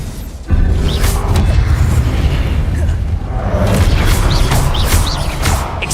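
Confringo fire spell exploding in the Hogwarts Legacy game: a sudden loud blast kicks in after a brief quiet moment, then a heavy rumbling roar with crackles continues to the end, with a voice briefly heard beneath it.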